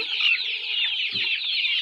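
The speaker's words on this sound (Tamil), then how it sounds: "இது எல்லாமே நாட்டுக்கோழி குஞ்சு." A flock of native country chicken chicks peeps and clucks continuously, shrill high chirps overlapping close by, with a brief low thump partway through.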